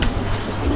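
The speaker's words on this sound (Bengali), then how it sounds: "এটা একটা হাই ফ্লায়ার কবুতর" A high flyer pigeon at a pigeon farm in Khulna gives a short, low, soft coo, close by against a steady background hum.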